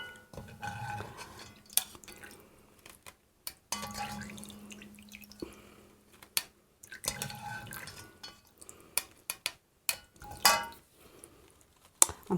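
Rendered lard being scooped out of a pot with a utensil, quiet scraping and soft liquid drips punctuated by sharp clinks of metal against the pot, irregular and close.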